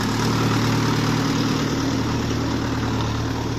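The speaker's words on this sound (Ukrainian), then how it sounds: "Трактор холодний." A cold tractor engine idles close by, a steady, low, constant rumbling drone with no variation and no voices.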